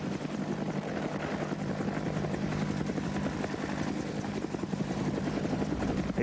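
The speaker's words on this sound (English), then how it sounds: "whether it be a normal helicopter move forward" Military helicopter during special operations flight, a loud continuous rhythmic rotor thump and engine whine sustained throughout without pause.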